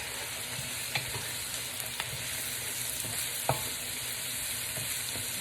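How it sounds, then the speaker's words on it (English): Food sizzles and crackles steadily in a hot pan while cooking sesame chicken, a constant close hiss with occasional soft pops and stirring clicks. "This is doing a little bit of frying."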